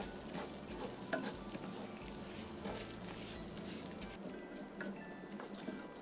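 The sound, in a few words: risotto rice toasting in olive oil on a portable charcoal barbecue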